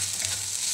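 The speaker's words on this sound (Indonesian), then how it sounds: "ini Bunda mau tumis bumbunya ya teman-teman" Spice paste for a sardine dish sautés in hot oil, giving a short burst of steady, bright sizzling close by with no voices.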